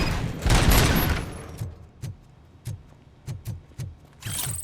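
Gunfire in the Robocop: Rogue City video game, aimed at a fuse box: a loud burst of rapid shots first, then a string of separate sharp single shots spaced irregularly, with no talk.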